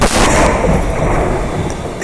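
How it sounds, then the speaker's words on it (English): Black powder cannon or musket volley fired at Fort Mackinac, Michigan: one loud, close blast opening with a sharp crack, then a long rumbling boom and echo that fades slowly. "a world of black powder cannons and muskets. Ready, fire!"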